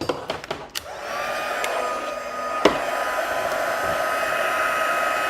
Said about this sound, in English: let's bring in my heat tool